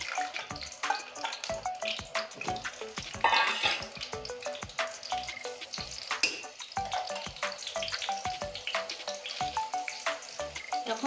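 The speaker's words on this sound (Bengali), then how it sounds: "এখন আমি এই আলুগুলো লাল লাল করে ভেজে নেব" Potatoes frying in oil in a pan, being browned for a thin chicken curry: a soft crackling sizzle punctuated by frequent sharp clicks and scrapes of a spatula, close up and without talk.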